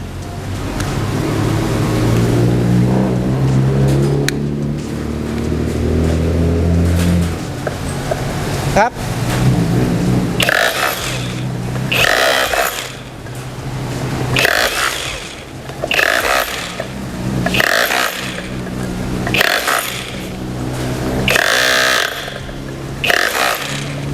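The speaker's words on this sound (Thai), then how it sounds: "มาดูความสามารถในการแยกปูนนะครับ" A Magnum 5198A 21V cordless brushless rotary hammer drill breaks concrete, starting with a steady motor whine and then loud repeated hammering bursts, with someone talking over parts of it.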